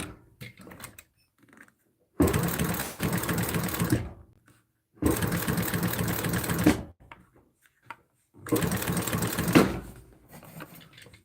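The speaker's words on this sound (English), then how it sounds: "you can sew by hand just by cranking this wheel if you want." A sewing machine turned by a hand-cranked wheel in a bladesmithing workshop stitches in three steady bursts of about two seconds each, with quiet pauses between them and no talk.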